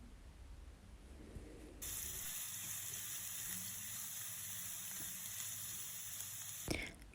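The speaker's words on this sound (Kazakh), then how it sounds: "табамызға сұйық май құйып, оны қыздырып, үстіне жаңағы туралған пиязымыз бен сәбізімізді салып, жақсылап тұрып қуырып аламыз" Onions and carrots frying in vegetable oil in a pan, a steady broadband sizzle that starts abruptly as the food hits the hot oil and holds loud and constant for several seconds before a brief clatter at the end.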